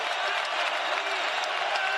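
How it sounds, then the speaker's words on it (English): Basketball arena crowd at a Louisville Cardinals college game, a steady, dense roar of cheering and applause throughout, loud and unbroken with no distinct voices standing out. "And the crowd up encouraging the Cards on the defensive end"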